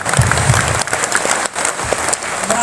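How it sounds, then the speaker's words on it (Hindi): A crowd at a Hindi poetry recital claps loudly and closely, with full, continuous applause and a brief dip midway, and some crowd murmur underneath. "तो एक बार जोरदार तालियां बजाइए।"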